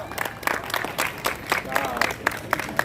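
An audience claps at a sitting volleyball competition for disabled athletes at a haveli in Pal, Surat. The applause comes in steady rhythmic bursts, moderately loud, with voices murmuring underneath.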